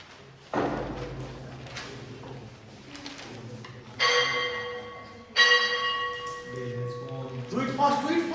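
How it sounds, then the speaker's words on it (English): A school bell rings out in two loud, clear metallic strikes that ring on with a long sustain, set among classroom bumps and thuds, with people talking in between. "Bell has gone."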